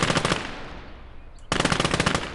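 Automatic gunfire from an infantry soldier in a first-person video game, two loud bursts of rapid shots separated by a brief quieter gap, with no talking.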